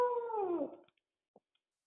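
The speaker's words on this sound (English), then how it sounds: "Sorry, that's my dog." A pet dog lets out a single drawn-out howl that slides downward and fades, nearby and alone, followed by a few faint clicks and near silence.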